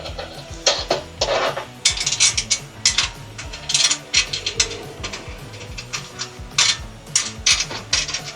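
Rapid ratchet clicks in short bursts as bolts are tightened on a door-mounted rack of a Mercedes Sprinter van, close and crisp, with brief pauses between strokes and no voices.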